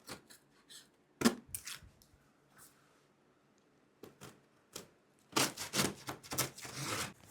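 Sharp scissors cut open the packaging of a multifunctional air fryer oven box. Sparse, quiet snips and clicks are spread across the quiet opening, then louder bursts of rustling and crinkling follow near the end.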